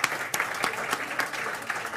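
A short burst of audience applause at a jazz concert at AC Recoletos, with dense, uneven clapping that rises and falls over two seconds and no talk on top.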